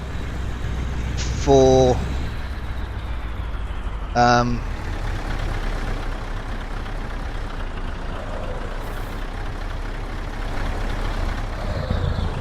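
Heavy truck in Euro Truck Simulator 2 pulling away, with a steady low engine drone throughout and two short sharp hisses or tones early on, while someone talks briefly over it.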